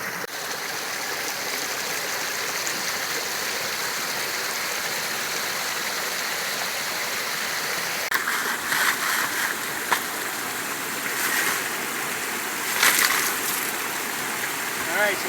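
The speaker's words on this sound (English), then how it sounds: "you can see that right up here is where the bend in the creek is" Creek water flows steadily over rocks at a bend in a stream in British Columbia's dry gold country, a continuous broadband rush heard close by with a few brief splashy bursts toward the end.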